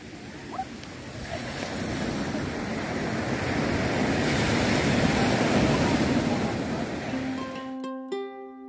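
Sea waves roll and wash onto a sandy beach in a broad, steady surf roar with some wind buffeting the microphone, swelling slightly in the middle before a few faint tonal beeps near the end.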